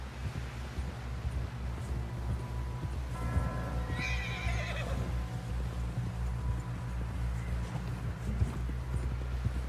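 A horse whinnies loudly in Red Dead Redemption 2, one drawn-out neigh rising clearly over steady clip-clopping hooves that continue throughout, close and prominent.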